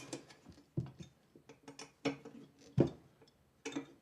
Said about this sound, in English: Tighten screws on a diagonal,